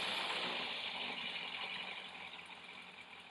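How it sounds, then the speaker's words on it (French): A Yamaha FZS motorcycle engine idles steadily and quietly after a restart during carburetor synchronization, a faint even hum with a light rattle, fading a little toward the end. "Donc on va remettre notre moteur en route."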